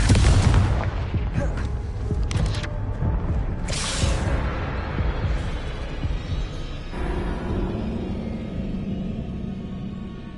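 A Confringo explosive curse goes off in Hogwarts Legacy, a loud, close booming blast followed by rumbling debris and crackling that gradually fades over several seconds.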